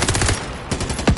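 A gun in Call of Duty Warzone fires rapid, loud automatic bursts at close range, several quick shots followed by a final heavier report.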